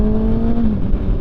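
A Kawasaki ZX6R sport motorcycle engine drones loudly and steadily close by, its pitch holding and then dipping slightly as the revs settle.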